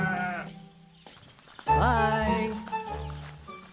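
Sheep bleat in a short sequence of wavering calls, some overlapping, mixed with other farm-animal sounds at moderate volume, in a storybook scene of sheep being watered at a well in Midian.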